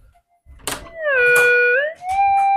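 A door with a large piece of metal attached is pushed open: a thump, then a loud, drawn-out metallic creak that slides up and down in pitch for more than a second before fading.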